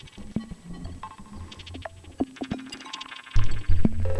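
A synth part runs through modelling delay and LFO filter effects in AUM, giving scattered, skittering blips and echoing tones with gurgling filter sweeps, moderately loud, with a denser, fuller burst arriving near the end.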